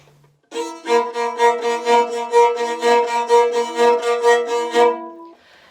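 A bowed violin with a wine cork placed between the strings plays a slow run of sustained notes with a muted, slightly buzzy and distorted tone, close and clear, with no talking.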